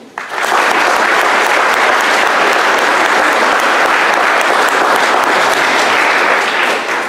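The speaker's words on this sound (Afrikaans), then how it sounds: "Kom ons geef al een ander klap." Sustained, loud applause from a church congregation at a Reformed church carol service, steady and dense for several seconds after a brief rise, with no talking over it.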